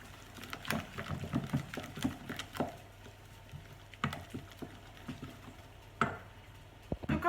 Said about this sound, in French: Vous rajoutez les oignons. Vous mélangez de nouveau.